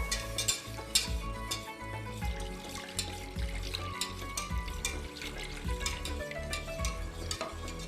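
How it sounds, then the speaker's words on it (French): Water is poured into simmering tarhana soup while a spoon stirs it, giving a steady wet sloshing and scraping with repeated clinks against the pot, alone and close. "On continue de mélanger, on rajoute de l'eau."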